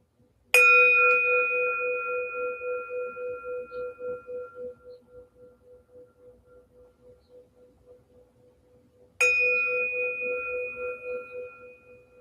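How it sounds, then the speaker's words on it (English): A meditation bell is struck twice, about nine seconds apart, each time giving a clear, bright ring that lingers and slowly fades in quiet surroundings. "The sound of the bell"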